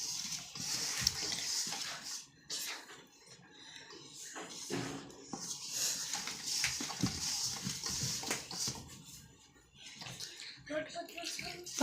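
Water is poured into flour for kneading bottle gourd thepla dough, making a close, fairly loud splashing and gurgling that comes in bursts with brief pauses.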